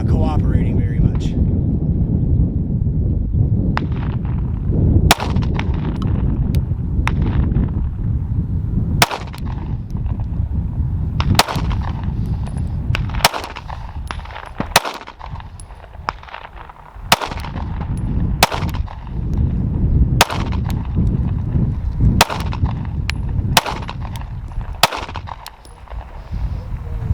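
A Sig P365 pistol fires a long, slow string of single shots at a target outdoors. Each sharp crack stands out over heavy, constant wind rumble against the microphone, with uneven pauses between shots.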